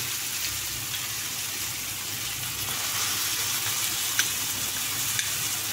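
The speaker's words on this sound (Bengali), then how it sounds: "ওইদিকে আমার সবজিটা ভাজা হয়ে গেছে, এবার আমি এগুলো দিয়ে দেবো" Steady sizzling of vegetables frying in a pan, a continuous crackling hiss with faint occasional clicks, no voices.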